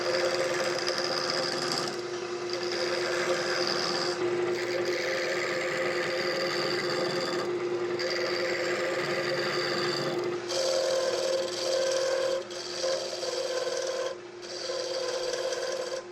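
A 1-inch chisel held like a roughing gouge makes a shearing cut on wood spinning on a lathe, giving a steady, close, rasping scrape that runs continuously with brief dips and changes in pitch.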